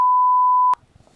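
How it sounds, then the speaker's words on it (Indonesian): A single loud, steady censor bleep holds for under a second and then cuts off sharply, leaving only faint low rumbles. "bip sensor"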